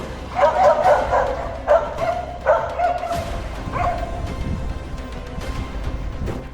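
Several stray dogs bark and yip in short bursts, fairly close, with some whimpering between barks and a murmur of background noise.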